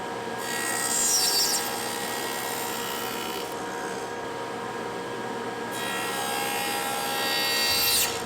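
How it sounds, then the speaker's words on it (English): Table saw fitted with a dado blade removing wood for flat panel cabinet doors, a loud close whining cut that swells, drops away midway, then rises again for a second pass. "Just removing some material with a dado blade."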